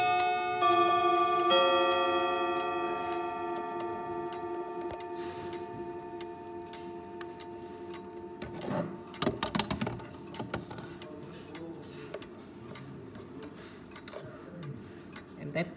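An MF 10-gong chime clock rings out sustained chime tones that fade, followed by a series of close mechanical ticks and clicks, fairly quiet and alone.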